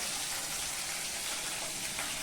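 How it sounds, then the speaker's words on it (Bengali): Bhangar fish frying in hot oil after being flipped to the other side, a dense, even, loud hiss of sizzling fat that holds steady throughout with no voices. "দেখো মাছটা আমি উল্টে দিলাম, উল্টো পিঠটা ভাজছি আমি ভালো করে"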